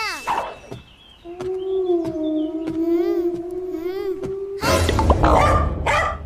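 A cartoon dog lets out a string of sharp barks and whimpering yips over a sustained tonal musical backdrop, ending in a burst of louder noisy clamor.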